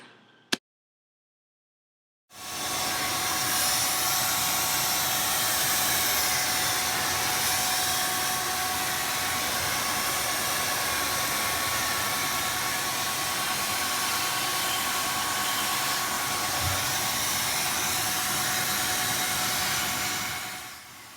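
A Flowbee vacuum haircutting system runs with suction and a spacer attached, a loud, steady broadband whir like a hair dryer or vacuum that holds for about nineteen seconds after a brief click and a short silence.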